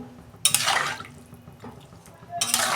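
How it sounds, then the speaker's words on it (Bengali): Water pours into a pan of fish and mixed vegetables in two short, close bursts of splashing, with a quieter gap between them. "আমি জল দিচ্ছি।"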